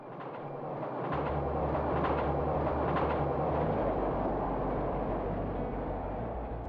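A heavy-haul freight train on the Haoji railway rolls past close by, a loud continuous rumble with a low engine drone and faint clattering wheels that builds in the first second and then holds steady.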